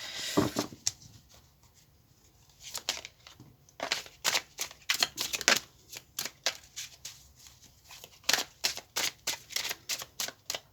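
Tarot cards being shuffled and drawn, a quick series of crisp riffling and slapping card sounds close to the microphone in a quiet room, coming in bursts with short pauses.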